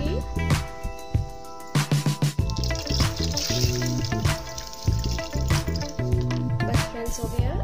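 Toor dal tipped into water boiling in a pressure cooker on a gas stove, giving a run of close splashes, patters and trickling drips, with scattered light clatter throughout.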